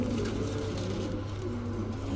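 Female Kaldam pigeon puffing and hissing in a low, steady, cobra-like way, close by and continuous throughout with no talk over it.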